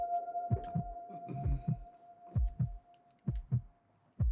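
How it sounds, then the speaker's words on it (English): A deep, steady heartbeat thumps in paired beats within an electronic music track, repeating about once a second, with a sustained synth tone held above it and a brief brighter texture early on. "A heartbeat."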